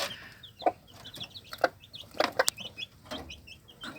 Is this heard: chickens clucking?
yes